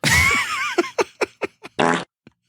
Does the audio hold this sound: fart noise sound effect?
yes